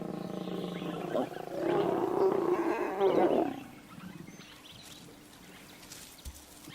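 Lions roaring in Kruger, South Africa: a deep, rough roar builds from about a second in, swells loudly for a couple of seconds, then cuts off, leaving quiet bush ambience.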